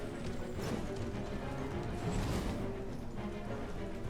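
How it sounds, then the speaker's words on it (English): Horse hooves gallop in Elden Ring, riding through Liurnia of the Lakes. A steady clip-clop rhythm runs throughout at moderate loudness, blended with dense game ambience and no voices. "I'll finish this on the horse"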